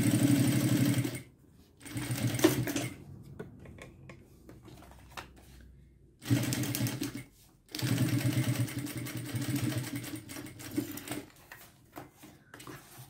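A sewing machine stitches the side seam of a square toiletry bag, with its zipper and a short strap caught in the seam, running in several close bursts with short pauses and quieter handling between runs.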